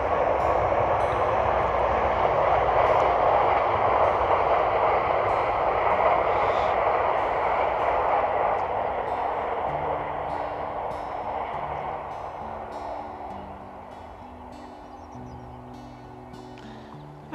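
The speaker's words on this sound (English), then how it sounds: "There's a train going by," A passing train rumbles with a broad, sustained roar that slowly fades as it moves away, with faint rhythmic clacks on top.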